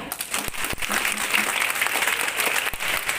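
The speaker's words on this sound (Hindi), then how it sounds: "आपके लिए जोरदार तालियां।" Audience applause at a tricolour rally in a town, dense steady clapping from a crowd filling the whole stretch at even loudness, with a few sharper claps standing out.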